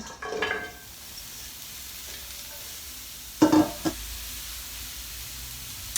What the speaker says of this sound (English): I've got a non-stick fry pan on the stove and I've heated it to about a medium heat. And I'm just going to pop the broccoli in.